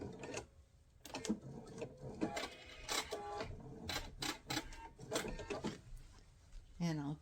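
A sewing machine stitches and back-tacks to reinforce a seam on a fabric box, running in short uneven bursts amid handling clatter, with a voice talking throughout.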